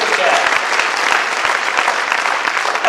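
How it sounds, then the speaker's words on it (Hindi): An audience at a company recognition speech applauds loudly and continuously for about three seconds, with a voice faintly present behind it. "एक बार जोरदार तालियां"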